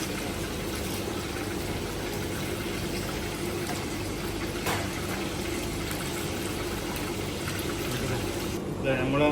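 Water poured into tamarind sauce while cooking an Arabic fish curry, a steady, full pouring wash that runs continuously from start to end at even loudness.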